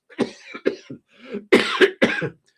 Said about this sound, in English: apologies for the coughing and the spluttering